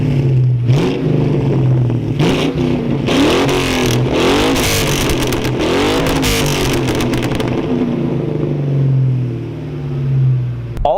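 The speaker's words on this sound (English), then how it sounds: "The exhaust you're hearing though, it is definitely not stock. It is, the car's got high flow cats and almost straight pipe." Loud, modified exhaust from a 2003 Ford Mustang GT V8 running high-flow catalytic converters and a near straight-pipe setup, revving and accelerating with a deep burbling roar that rises and falls throughout, close by and alone.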